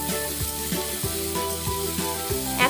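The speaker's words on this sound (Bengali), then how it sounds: "পেঁয়াজকলিগুলো একটু নেড়ে চেড়ে ভালো করে মিশিয়ে নেবো সবগুলো একসঙ্গে" Spring onions sizzle and fry in a hot pan while being stirred, with steady close sizzling broken by periodic scraping strokes of the spatula across the pan, no talking.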